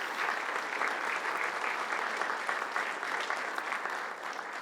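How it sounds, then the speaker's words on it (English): Warm, steady applause from an audience at a retirement celebration fills the room evenly, a dense wash of many hands clapping that holds its level and eases slightly near the end. "A round of applause for them too."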